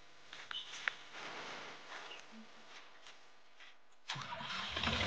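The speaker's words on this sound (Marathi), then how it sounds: "ट्रॅक्टर केला चालू" A farm tractor's engine is started, with a busy stretch of noise and faint voices before the engine catches with a sudden low, rumbling roar near the end.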